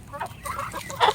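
A rooster clucking nearby in short, low bursts, fairly quiet, ending with a slightly louder cluck.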